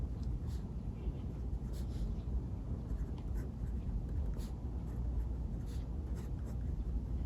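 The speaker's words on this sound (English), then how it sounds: "And I'm writing with a Montblanc Meisterstück." A Montblanc Meisterstück Classique fountain pen writes with Glacier ink on paper, giving a faint, close scratching with short strokes repeating over a quiet background.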